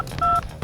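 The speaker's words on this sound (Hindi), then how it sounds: "पहला नंबर लगा के देखो" Telephone keypad tones as a seven-digit number is dialed, short sharp electronic beeps in quick succession, loud and close with no voices.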